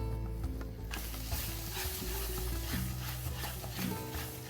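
Ground spices with homemade garam masala, Kashmiri chili paste and turmeric roasting in a pan for chicken handi, a continuous close sizzle with light scraping stirs and a steady low hum beneath.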